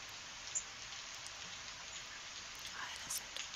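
Moderate rain falling steadily in a garden, a dense constant hiss of drops with a few sharper close patters standing out, quiet and even throughout.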